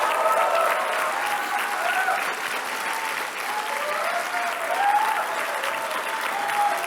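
An audience at a graduation commencement ceremony applauds in a loud, sustained wash of clapping filling a large hall, steady throughout with faint crowd murmur beneath.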